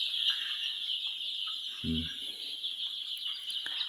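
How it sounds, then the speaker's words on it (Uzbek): Andijan black chicks in a coop, a steady high chorus of peeping with one short low cluck partway through, moderately close. "Jo'jalar o'ta ham go'zal katta bo'lyapti"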